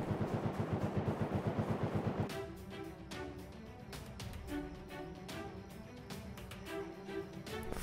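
Rapid automatic gunfire from a defensive turret in the survival game Rust, a fast loud burst at first, then scattered clanks and impacts of a raid continuing at a steady mid level.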